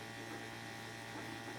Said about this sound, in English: Still just pumping air through here.